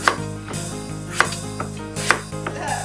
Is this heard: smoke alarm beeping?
no